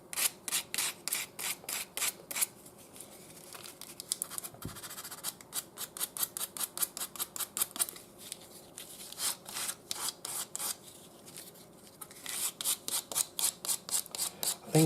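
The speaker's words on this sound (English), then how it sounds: "And now 80 grit sandpaper." A wooden spoon being hand-sanded with 80 grit sandpaper: quick, rhythmic rasping strokes in steady bursts with brief pauses, close and fairly loud, no voices.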